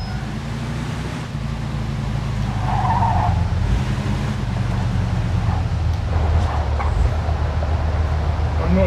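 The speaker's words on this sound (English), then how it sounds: "Drive through the gate and into the yard" A car drives in the 1940s-style crime game Mafia II, with a steady low engine drone and tire noise rolling on continuously through the whole stretch, moderately loud and with no talk.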